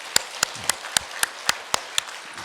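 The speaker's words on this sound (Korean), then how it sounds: "우리 한번 박수로 영광 돌립시다." A congregation at a Korean church's 90th-anniversary ordination and dedication service claps in unison, crisp evenly spaced claps about four per second, close and distinct over quiet room ambience.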